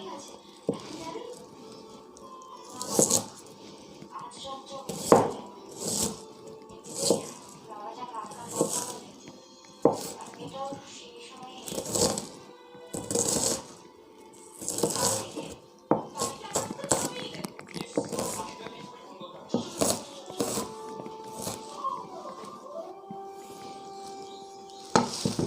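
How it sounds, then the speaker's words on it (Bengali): Onion being finely chopped with a knife on a board, a series of sharp irregular cuts in bursts, with people talking between the strokes. "তো আমরা এখন পেঁয়াজ কাটবো। পেঁয়াজটাকে কুচি কুচি করে নিব।"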